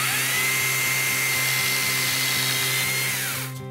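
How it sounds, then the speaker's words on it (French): A small, lightweight chainsaw cuts steadily in a garden, its high buzzing whine holding at a constant pitch with a low engine pulse underneath, close and loud, then easing off at the end. "L'intérêt, c'est que cette tronçonneuse est toute légère."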